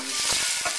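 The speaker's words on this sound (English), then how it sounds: "Listen to that sizzle pop bam." Steak frying in a hot pan gives a loud, steady sizzle with scattered pops and crackles throughout, heard alone with no talking.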